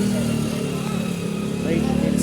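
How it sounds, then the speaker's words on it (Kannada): A motorcycle engine runs close by with a steady, throaty rumble that stays even throughout and shows no clear cut-off. "Bike ನಿಲ್ಲಿಸ್ತದೆ guys."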